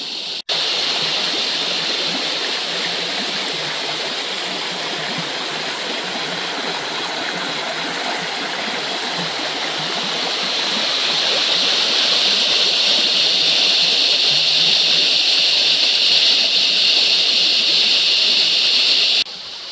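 A river in the Blue Mountains rushes and babbles steadily, a continuous bright watery hiss that swells slightly louder in the second half before cutting off at the end.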